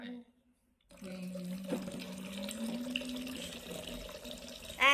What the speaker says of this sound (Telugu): ఇప్పుడు వాటర్ పోయడమే